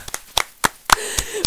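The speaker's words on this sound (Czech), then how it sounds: "Velký potlesk!" Applause at a school radio show, heard as a handful of distinct, sharp claps spaced irregularly over a second and a half, close and fairly loud.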